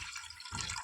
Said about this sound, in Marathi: त्यात आता मी पाणी टाकते